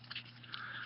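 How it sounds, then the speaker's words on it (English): Quiet, wet crunching and gnawing from a dog chewing on something, a few soft irregular bites close by with no voices. "Excuse my random dog noises."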